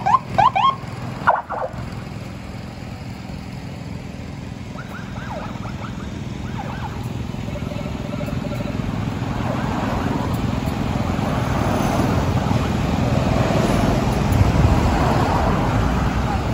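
Traffic jam on the Pantura road between Surabaya and Semarang, a steady roar of idling and crawling vehicles with scattered horn toots early on, a continuous dense roadway drone.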